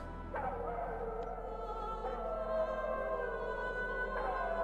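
Dogs in the Metal Gear Solid video game, drawn-out howling yelps that rise and trail off three or four times over a low, constant background hum, sounding somewhat distant.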